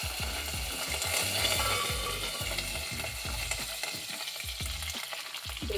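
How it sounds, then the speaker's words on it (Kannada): Curry leaves frying on low flame in a pan for tomato rasam give a steady sizzle across the whole stretch, with repeated soft scraping strokes of stirring on top and no voices. "ಲೋ ಫ್ಲೇಮಲ್ಲೇ ಇಟ್ಕೊಂಡು ಫ್ರೈ ಮಾಡ್ಕೋಬೇಕು."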